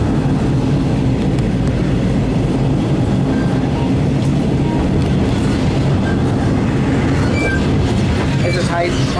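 Swan Hill N set passenger train running between Swan Hill and Bendigo, heard from onboard: a loud, steady low rumble of the moving carriage with faint wheel clatter and a few brief squeals near the end.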